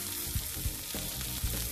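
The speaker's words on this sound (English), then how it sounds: "That's a good sizzle." A steak sears in a smoky hot pan, giving a loud, crackling sizzle with small spitting pops throughout and no talking.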